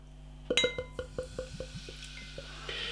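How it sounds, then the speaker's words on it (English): A cherry fruit sour craft beer is poured from a bottle into a glass, with a quick run of clinking, gurgling glugs that slow and fade into a soft fizzing pour, close and quiet. "Beer in the glass then."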